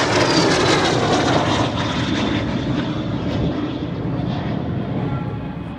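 An L-39 jet flies past with smoke on at the OshKosh AirVenture 2022 airshow, making a loud, continuous roar with a high turbine whine. The sound fades slightly as the jet passes, and no voices are heard.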